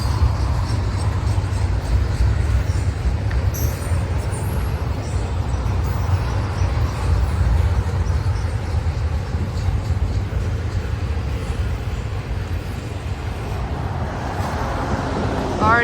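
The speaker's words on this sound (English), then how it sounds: "here comes our end to the third train today" The tail of a Norfolk Southern intermodal train rolls past with a continuous low rumble of wheels and cars on the rails, steady and fairly close, easing off slightly at the finish.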